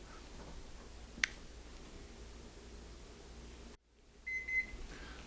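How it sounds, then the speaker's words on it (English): A kitchen timer goes off in a quiet kitchen where farmhouse cheese curds are setting in a SousVide Supreme, giving a short run of thin, steady electronic beeps after a sudden hush. "my timer has gone off"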